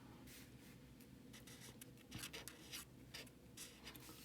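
Pen or marker strokes scratch across paper or a board while trigonometric equations are worked out: soft, continuous rasping with short, sharper strokes, faint and close, with no talking.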